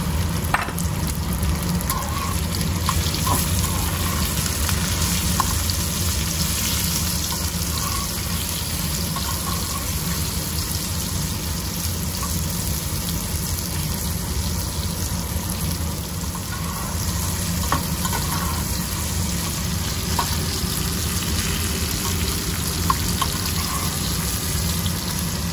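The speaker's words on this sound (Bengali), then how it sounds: "ঢ্যাঁড়সটা ভালো করে ভেজে নিয়েছি।" Okra fries in a pan with turmeric, giving a steady, dense sizzle that holds for the whole stretch, with occasional faint stirring clicks and no voices.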